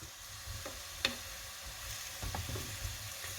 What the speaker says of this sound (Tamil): அளவாக விட்டு பொறிக்கும் இங்கே வேறுங்கோ பொறி பொறிஞ்ச போண்டா